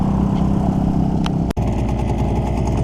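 A Suzuki 9.9A/DT15A outboard motor idles during break-in with a steady, close mid-pitched putter, interrupted by one sharp click before it carries on evenly.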